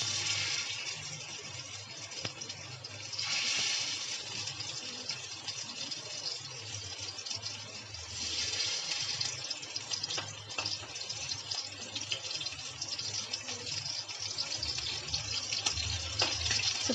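Masala-coated fish frying in hot oil in a pan gives a steady, fairly loud sizzling hiss that swells and eases in waves, with no voices over it.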